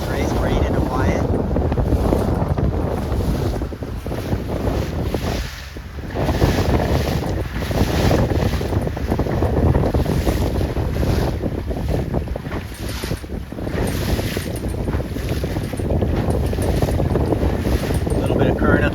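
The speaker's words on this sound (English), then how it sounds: "But the wind is quite a bit lighter now." Strong wind roars over the microphone aboard a sailboat during a 420 and 29er dinghy regatta, with water sloshing underneath and brief gaps in the gusts.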